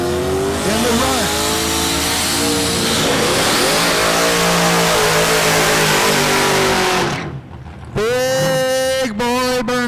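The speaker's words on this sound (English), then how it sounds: "big boy burnouts going on now" Trucks doing burnouts at no-prep truck drag racing at Newport Raceway, loud sustained engine roar with rising and falling revs, then a brief dip and sharp repeated revving bursts near the end.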